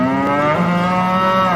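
A cow or bull bellows in one long, loud, sustained moo that fills the whole moment, with a steady drawn-out tone and no voices around it.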